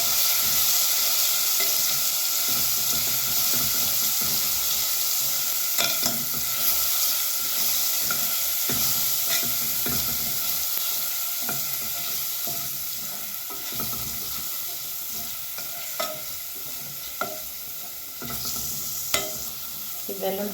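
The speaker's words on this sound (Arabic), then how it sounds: "حطينا دلوقتي معلقه ثوم وهنقلبها كده لغايه ما تحمر." Garlic frying in a pan and stirred steadily, a continuous sizzle with scraping strokes of the spoon, close and fairly loud with no talking.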